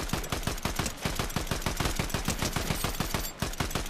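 Rapid automatic gunfire in Fortnite, a dense, steady stream of close, punchy shots repeating for several seconds with only brief gaps.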